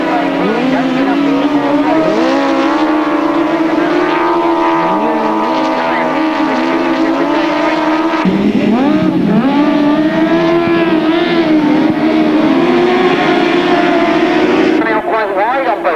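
Grasstrack racing motorcycles roaring past close by in a continuous loud engine drone that shifts in pitch as riders go by and brake into the bends, with a commentator talking throughout.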